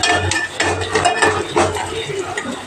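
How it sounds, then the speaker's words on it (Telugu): Fried onions are stirred in a pan, with repeated clinks and scrapes of a metal utensil against the pan in an uneven rhythm, close and loud, with no voices. "ఆనియన్స్ ఫ్రై అయిపోయాయి. మళ్ళీ ఒకసారి కలుపుకుందాం."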